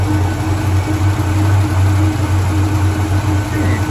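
A Holden HJ Ute with a mechanical fuel pump idles steadily and loudly up close, its low engine hum unbroken and even throughout as the motor warms up.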